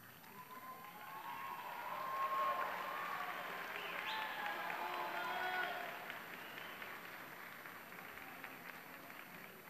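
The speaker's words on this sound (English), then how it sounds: "Graduates, will you please stand and thank your families with a round of applause?" Graduates at a 2016 university commencement ceremony stand and applaud, a broad, distant wash of clapping from a large crowd that swells, holds steady, then fades to a quieter murmur.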